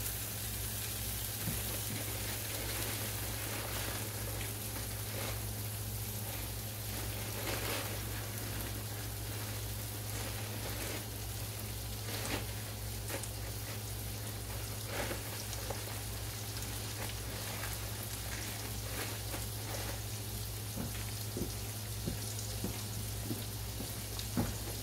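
Chopped onion sizzling in a hot skillet, a steady crackling hiss with scattered pops running throughout, with a constant low hum beneath and no talking.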